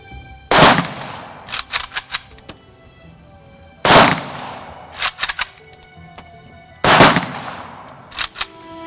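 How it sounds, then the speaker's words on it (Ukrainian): Three sharp rifle volleys of a military funeral salute in Kryvyi Rih, Ukraine, spaced a few seconds apart, each a loud crack followed by a few scattered echoing shots, outdoors with no talking. "на честь героя прозвучав останній військовий салют"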